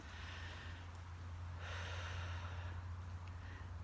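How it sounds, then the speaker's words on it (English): Slow, deep breaths during a calm healing meditation, one long airy breath rising over a steady low hum, close and soft. "taking some nice deep breaths in and out, just in and out with those breaths"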